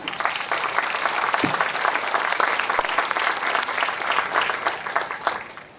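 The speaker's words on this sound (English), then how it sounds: "Give them applause." A crowd at a King Coal community event in Kittitas County applauds the Pioneer Queens, with steady, dense clapping that stays loud for nearly six seconds without pause.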